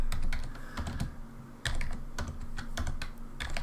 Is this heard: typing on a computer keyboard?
yes